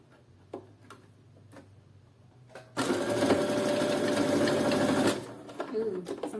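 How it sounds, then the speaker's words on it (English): A sewing machine stitches string bikini fabric in a fast, even burst of rapid mechanical ticking lasting a couple of seconds, close and loud, framed by quieter handling clicks before and after. "Then I go and sew."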